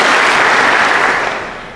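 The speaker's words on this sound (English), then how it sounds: "round of applause for them" Sustained applause from a graduation ceremony audience at Sacred Heart High School's Class of 2023 commencement, a dense, even wash of many hands clapping that fades slightly toward the end.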